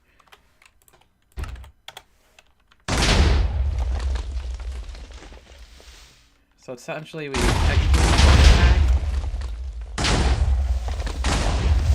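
Explosions in Minecraft burst in two long, loud blasts, each a sustained roaring rumble that trails off, with brief clicks and soft speech between them.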